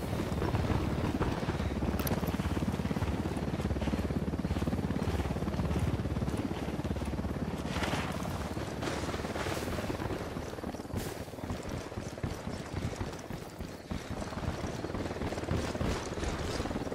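An enemy helicopter patrolling in the video game Ghost Recon Wildlands gives a distant, steady rotor drone heard faintly under wind and scattered game noise.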